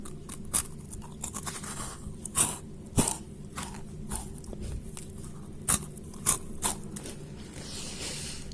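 Close crunching bites and chewing on crisp, crumbly French croquant biscuits, with sharp cracks scattered irregularly over quiet background noise.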